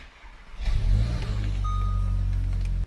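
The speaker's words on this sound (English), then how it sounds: "I'm going to cold start the GTI" A Volkswagen GTI cold-starts with a brief starter crank, then the engine catches and flares to a loud rev before settling into a steady, elevated idle, heard up close with no talk.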